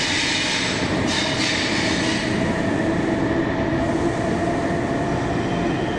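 At Zurich airport's underground railway station in Switzerland, a train rolls through with a continuous loud rumble and faint wheel hiss, steady throughout without speech.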